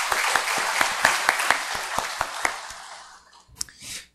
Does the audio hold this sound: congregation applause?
yes